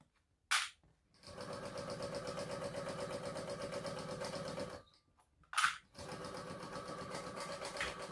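A domestic sewing machine runs in two steady, close whirring stretches, basting a small bag seam closed at a 1/8-inch allowance, with a short pause and a couple of handling knocks between runs.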